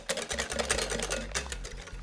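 Homemade French-style mayonnaise, seasoned with salt and pepper, is mixed in a bowl with rapid, rhythmic strokes that make a quick, steady run of scraping beats, fairly close and with no talk.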